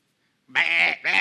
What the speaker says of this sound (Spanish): ¿y qué es este balido de ovejas en mis oídos y el mugido de bueyes que oigo?